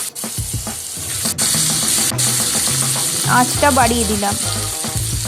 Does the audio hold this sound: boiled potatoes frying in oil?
yes